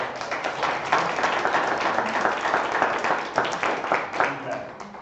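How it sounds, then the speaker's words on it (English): An audience at a mayoral town hall meeting on redevelopment claps steadily for several seconds, a dense patter of many hands at moderate level with a faint murmur of voices underneath. "give them a round of applause as well"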